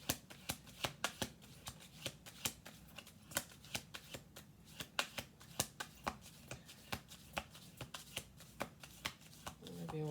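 Cards are riffled and shuffled in quick bursts of crisp, flapping clicks, repeated steadily and heard up close.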